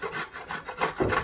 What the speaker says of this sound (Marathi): अशा पद्धतीने किसून घ्यायचे.